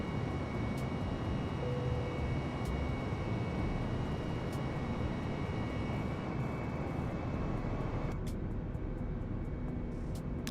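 Airbus A320 airliner engines in Microsoft Flight Simulator, a steady, loud broadband roar that holds level throughout with no voices over it.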